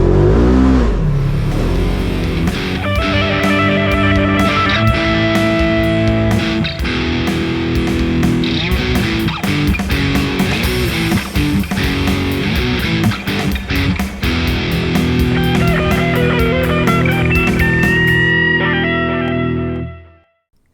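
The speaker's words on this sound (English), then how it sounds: "This is the RZR XP1000 by Polaris." A Polaris RZR XP1000 side-by-side drives hard, its engine loud and close, revving and changing pitch continuously for about twenty seconds before cutting off abruptly.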